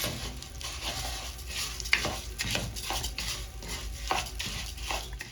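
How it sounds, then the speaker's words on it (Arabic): Washed rice stirred into fried onions in a pot, with repeated scraping strokes of a spoon against the metal and a soft sizzle underneath, a close rhythmic stirring with a few sharper clinks and no talking. "هنزل عليه بكوبايتين من الرز المغسول واقلبه بقى كده كويس"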